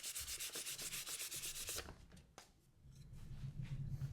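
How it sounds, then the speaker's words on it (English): Fine 400-grit sandpaper lightly sanding a cherry wood top, a steady rapid back-and-forth rasp of short strokes, close and clear, then slower softer rubbing. "I'm just gonna lightly sand with 400 grit on the top"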